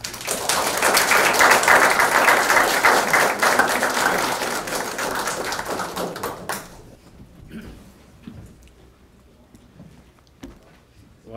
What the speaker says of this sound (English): Big round of applause to Fred Herter.